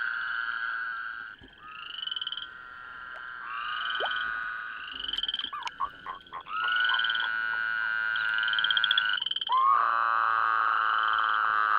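Male Woodhouse's toads calling at a breeding pool, with several long, loud, buzzing trills that overlap and follow one another, broken by brief splashes and gaps.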